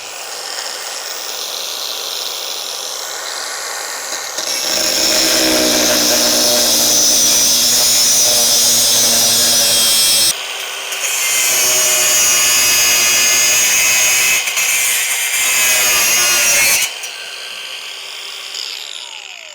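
A cordless brushless 4-inch 20V angle grinder cutting wood whines loudly and steadily in two long bursts, with a brief pause between them, over a low idle hum.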